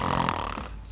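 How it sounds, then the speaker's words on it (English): A dog lying on her side snores with a short, rough, close-up breathy rumble. "Can we hear how she snores?"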